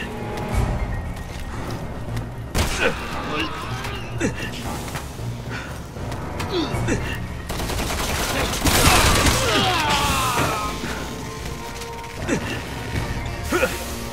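Gunfire in a video game firefight: scattered shots and crashes over a constant dense mix of game noise, with louder busy stretches and a voice heard now and then.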